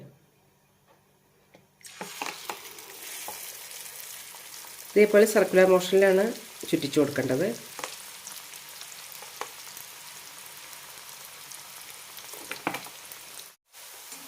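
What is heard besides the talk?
valayappam batter frying in hot oil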